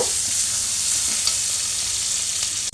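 Chopped onion frying in hot oil, with a steady, dense sizzle that runs unbroken and fairly loud from start to finish, and no talking over it.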